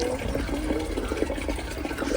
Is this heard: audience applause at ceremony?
no